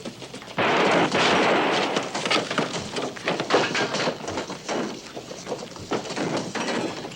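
Gunfire rings out in a western shootout, a dense burst of loud shots and echoing cracks at the start followed by scattered further reports amid noisy scuffling.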